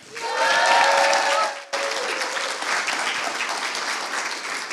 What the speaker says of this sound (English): Put your hands together for Robert Meck